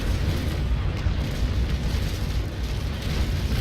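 Cannon broadside rumbling from a sailing warship in the naval battle game Naval Action, a dense continuous low boom of overlapping shots with no distinct separate blasts.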